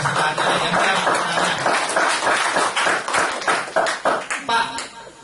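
Audience hand clapping at a seminar, fairly loud and continuous with uneven rhythm, fading toward the end, with voices mixed in underneath.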